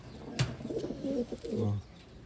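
Taiwan pigeons, a medium-sized female among them, coo in a few soft, low, throaty phrases close by, with no talk over them.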